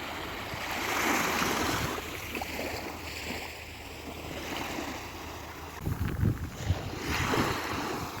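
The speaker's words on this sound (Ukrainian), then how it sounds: "А море сьогодні спокійне" Calm Black Sea waves wash softly along the shore at Odesa, a steady low surf hiss with wind rumble, swelling slightly near the end.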